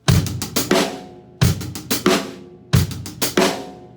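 A drum groove of kick and snare repeating in three even bars, played alone with closed hi-hat ticks and no open-hat wash.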